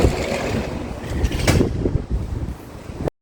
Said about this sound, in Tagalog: Nindot kayong hangin